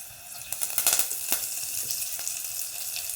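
Garlic and curry leaves crackle and sizzle in hot oil for a tempering of green moong, with bright spattering pops near the start easing into a steady fry, no voices.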